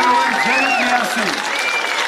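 A crowd applauds at a political rally in Armavir, Armenia, a steady wash of clapping with a voice audible over it.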